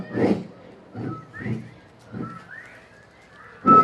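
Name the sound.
crowd imitating the song of the coqui frog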